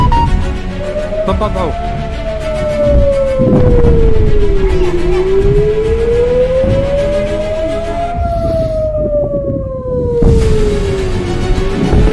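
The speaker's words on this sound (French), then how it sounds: "les sirènes retentissent dans tout le pays" Air raid sirens in Israel wail loudly during an Iranian ballistic missile attack, rising and falling in long slow sweeps, with a second siren joining partway through over a busy background.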